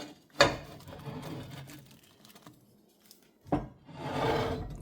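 A knife cuts a German pancake in a cast iron pan: two short, close scraping strokes across the pan with a quiet pause between them.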